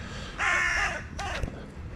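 Several crows caw loudly and close by while being fed peanuts on a countryside outing, harsh calls in two bursts, the first long and the second shorter, with no talk over them.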